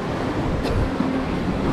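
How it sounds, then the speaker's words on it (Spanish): Sea waves washing and splashing against the shore in Mykonos, Greece, a steady broadband rush of surf with wind buffeting the microphone, close and continuous with no talk. "Aquí brinca el agua y uno se moja."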